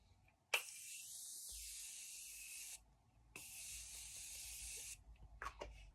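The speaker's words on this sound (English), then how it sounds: "I'm just going to set my face using the Morphe Continuous setting spray." Morphe Continuous setting spray misted onto a face in two long, close hissing bursts separated by a short pause, with no talking.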